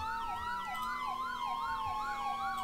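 An ambulance siren in the Roblox game ER:LC wails, sweeping up and down in a steady, repeating cycle, continuous and moderately loud with a low engine hum beneath.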